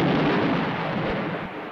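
A deep, rolling boom of cannon fire, loud and sustained across the moment, with a heavy low rumble and broad noisy decay and no voices.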